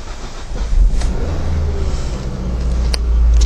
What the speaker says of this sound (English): Right, let's fire the car up a second.